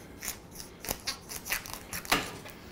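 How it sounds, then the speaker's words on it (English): A knife chops into a butternut squash in quick crunchy strokes, with about half a dozen sharp close cuts in under three seconds and no voices. "And now butternut squash, a friend of mine said, cut it from the side, watch your fingers."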